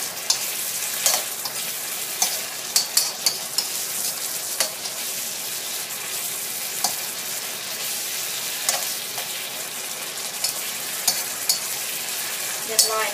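Canned fish stir-fried in a hot pan with shallots and garlic for a Thai chili-ginger dish, giving a steady close sizzle with frequent scraping stirs and light utensil clicks throughout, no talking.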